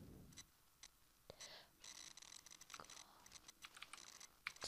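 Computer keyboard typing while entering a search for a mod download, quiet scattered key clicks in short irregular bursts, close up and alone with no talk.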